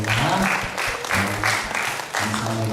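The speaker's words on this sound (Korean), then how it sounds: "다시 한번 우리 성가대에게 힘찬 박수 부탁드립니다." A church congregation gives the choir a vigorous round of applause during a Sunday worship service at a Korean church, with a voice talking over the clapping.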